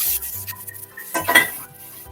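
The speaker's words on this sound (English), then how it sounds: "we're gonna wash out this pan" A pot or pan is washed out at a kitchen sink, with soft rubbing, light metallic clinks and a short splashy scrub in the middle, no voices.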